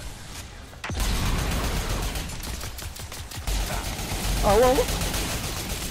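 Gunfire in the online shooter Crucible rattles on and off through a busy match, dense bursts under loud excited talk, with a sharp impact near the start and a brief buzzing effect toward the end.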